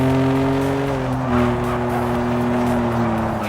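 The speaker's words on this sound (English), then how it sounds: "I think maybe the truck sound might actually be new." A steady, droning truck engine hum in a video game, with a low tonal whine, running continuously with slight pitch shifts and no talking.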